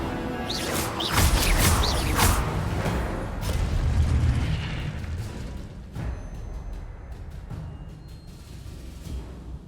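Incendio fire spell cast in Hogwarts Legacy, a loud burst of roaring flame and crackling blasts up front, followed by fading rumbles and a few softer impacts.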